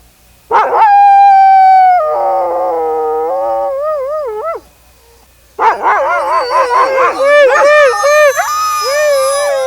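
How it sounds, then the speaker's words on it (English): Sled dogs at an Alaska checkpoint howl in chorus, loud sustained wavering howls from one dog then several overlapping voices rising and falling, close by with a short gap between. "The chorus moves from dog to dog."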